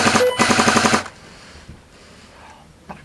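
Airsoft gunfire in an outdoor skirmish: a loud, close burst of rapid automatic shots for about a second, then quieter scattered noise and a faint distant pop near the end.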